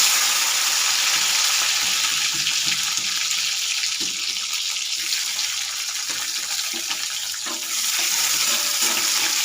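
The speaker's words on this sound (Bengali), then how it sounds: "তেলটা গরম হয়ে গেছে, এবার টমেটোগুলো দিয়ে দেবো।" Tomatoes hit hot oil with a bay leaf in a wok, giving a loud, continuous hiss of sizzling that holds steady and close throughout.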